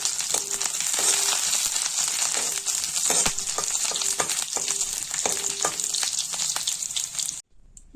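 Garlic and broken dried chillies fry in ghee with a constant close sizzle while a utensil scrapes and taps the pan in a loose rhythm, then the sound cuts off abruptly just before the end.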